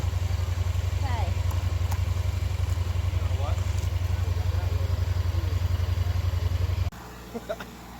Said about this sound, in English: We got her back started again.